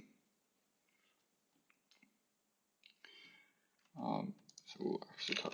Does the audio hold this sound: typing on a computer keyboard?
yes